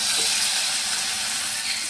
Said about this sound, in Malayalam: കടുക് വറുത്തത് നമുക്ക് ഇതിലേക്ക് ഒഴിച്ചു കൊടുക്കാം